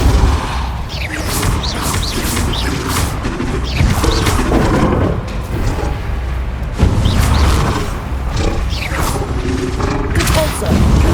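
Spell blasts and explosions from Hogwarts Legacy combat, a dense, loud, continuous barrage of booms, crashes and crackling impacts with spell chatter mixed underneath.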